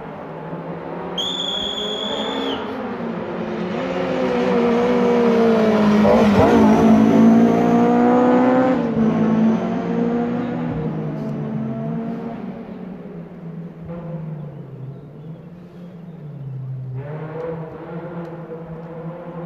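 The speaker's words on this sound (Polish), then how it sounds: "Tymczasem Jakub Wolski, także w BMW." A BMW rally car on a special stage of the Rajd Świdnicki-Krause rally, its engine loud and rising as it approaches, peaking mid-pass, then fading away, with a second revving burst near the end.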